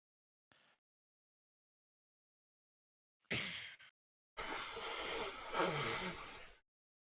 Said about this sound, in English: Let me blow my nose first.